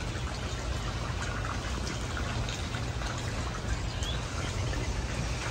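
A koi pond waterfall running over rocks, giving a steady, even pouring and splashing wash with no voices.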